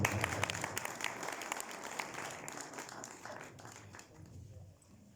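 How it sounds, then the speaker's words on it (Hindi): A class on a refresher purohit course in Port Louis, Mauritius, applauds a chief priest, brisk clapping that starts loud and gradually tapers off toward the end, with some voices underneath. "ताली ठीक से नहीं सुनाई दे रही है, थोड़ा जोर से।"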